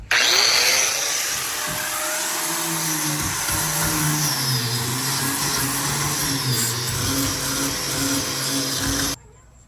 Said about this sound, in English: I just grind all this down,